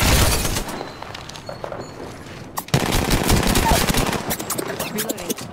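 Sustained automatic gunfire from Apex Legends, dense and loud throughout, with a brief gap before a sharp crack and renewed rapid bursts.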